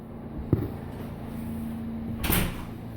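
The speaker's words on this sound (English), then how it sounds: "let me get the door closed" A door in a tiny home pulled shut, a single close knock followed by a softer latch-like rattle a couple of seconds later, against a steady low hum.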